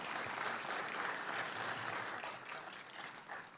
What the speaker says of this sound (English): please give our panel a big round of applause